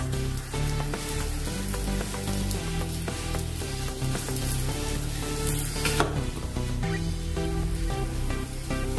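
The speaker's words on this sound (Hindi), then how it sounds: "ये देखिए और कम गैस पर इसको तलना है" Potato and bottle gourd tikki frying on low gas, a dense continuous sizzle with crackling oil and occasional spatula scrapes in the pan, steady and close throughout.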